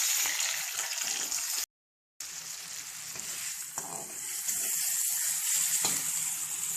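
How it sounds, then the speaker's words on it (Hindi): Tomatoes fry with already browned onions in a hot pan, a dense, steady sizzle with soft crackles and occasional stirring scrapes, close by and alone apart from a brief dropout partway through. "टमाटर डाल के थोड़ा भून लेंगे।"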